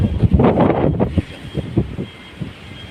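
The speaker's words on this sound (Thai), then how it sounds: "ได้ยินเสียงลม" Wind blows outdoors, buffeting the microphone in uneven gusts, strongest at first and then easing into softer, intermittent thumps.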